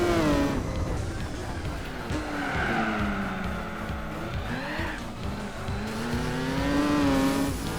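Nissan Skyline racing in Gran Turismo 4, its engine droning and rising through the revs with tire squeal and skidding over the top, loud and steady throughout.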